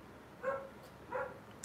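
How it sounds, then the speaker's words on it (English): A dog outdoors gives two short, muffled barks about a second apart, faint and distant against a quiet indoor background. "Apologize for my dog barking there."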